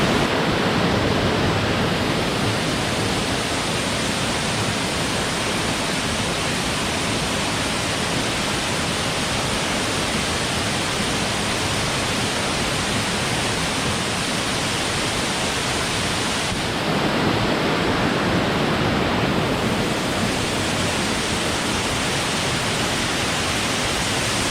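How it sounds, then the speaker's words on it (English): At the head of Cascada Manglarito, a waterfall rushes in a loud, dense, unbroken roar heard up close, the sound shifting slightly partway through but staying continuous, with no speech. "Here we are, folks, at the head of the waterfall."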